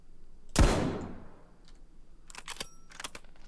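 A single sniper rifle shot in the video game DayZ, a loud sharp crack with a long rumbling decay, followed a couple of seconds later by quick metallic bolt-action clicks.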